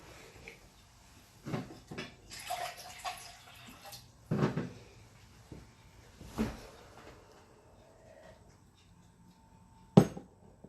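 Water is fetched indoors with scattered taps, clinks and a gurgling pour, plus a sharp knock near the end, all faint and intermittent against a quiet room.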